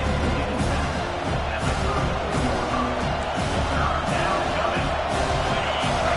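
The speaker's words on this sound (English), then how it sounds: "Decibels rising as the crowd gets behind this defense on third down." A stadium crowd at a Penn State football game roars steadily on a third-down defensive stand, a dense wall of cheering with broadcast commentary over it.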